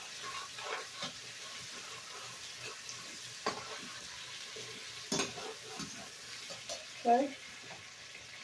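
Potatoes frying in a pan, soft sizzling under occasional scrapes and clinks of stirring, fairly quiet and close, with a short spoken word near the end.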